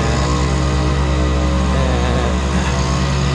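A large fire pump truck from a city fire station, running its pump motor during a Shimanto City volunteer fire brigade competition, gives a loud, steady, close droning hum with a constant low rumble and no pauses.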